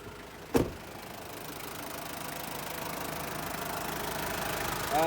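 A 2003 Ford Everest TDI diesel engine ticking over at idle, a steady low rumble with light knock that holds constant throughout, broken near the start by one sharp click.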